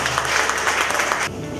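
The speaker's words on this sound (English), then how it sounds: "Can we give a round of applause for Mr." An audience applauds, with a dense, bright patter of many hands clapping for about a second before cutting off to quieter room noise.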